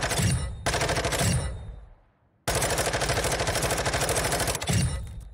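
Gunfire from a weapon in the video game Warzone 2: two dense bursts of rapid automatic fire, the second long and sustained after a brief pause, loud and close.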